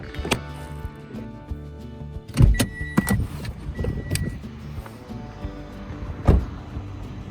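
Someone climbs back into a car in rural Japan, with several sharp door and body thuds, a short whirring squeal like a power window, and rustling and shuffling in between. It sounds close and there is little ambient noise.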